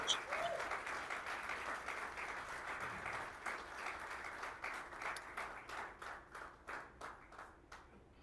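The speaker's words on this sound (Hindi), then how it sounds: "जोरदार तालियां होकर देने साहब के लिए" An audience applauds at an entrepreneurship boot camp, starting as a full, loud burst of clapping that thins out toward the end into fewer, separate claps.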